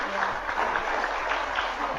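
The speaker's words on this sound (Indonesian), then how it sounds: "Teman-teman silakan berikan aplaus dulu." An audience at a religious lecture claps steadily, a sustained wash of applause heard alongside voices throughout.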